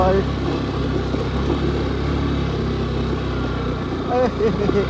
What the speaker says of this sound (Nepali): जङ्गलको बाटो ठुलो उडाउँदै के गर्दै बाइक उडाउँदै